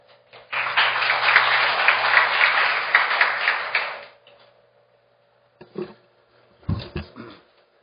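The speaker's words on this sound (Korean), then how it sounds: "그럼 박수로 허건 사무총장님을 모시도록 하겠습니다." An audience at a Korean presentation on registering comfort women records as world documentary heritage applauds to welcome a UNESCO Asia-Pacific secretary-general, a dense burst of clapping lasting about three and a half seconds before fading, followed by a few isolated knocks.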